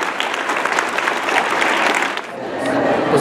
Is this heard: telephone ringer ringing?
no